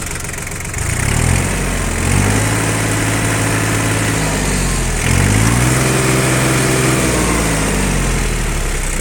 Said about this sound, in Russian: Трактор работает достаточно ровно, тихо, то есть на газ отзывается максимально быстро и хорошо.